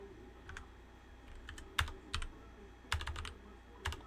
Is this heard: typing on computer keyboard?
yes